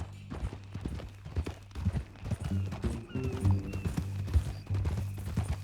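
Horse hooves clip-clop at a walking pace in Red Dead Redemption 2, a steady uneven patter close by under a low musical drone, with a brief snort or whinny and faint voices mixed in.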